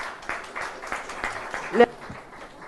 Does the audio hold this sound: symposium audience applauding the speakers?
yes